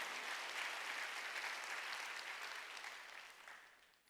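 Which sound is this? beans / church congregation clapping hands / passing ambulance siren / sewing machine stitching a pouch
church congregation clapping hands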